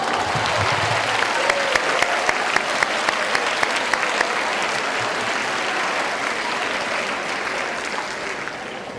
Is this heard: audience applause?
yes